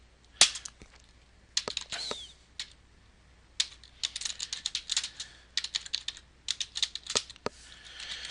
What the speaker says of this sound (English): let me just get a few more keys in